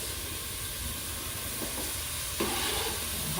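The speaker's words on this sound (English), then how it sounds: "So now I'm going to add in my celery" Celery and carrots go into a pot of sautéing vegetables, giving a soft steady sizzle with light stirring scrapes and a brief clatter of pieces dropping in, fairly quiet and close, with no talking.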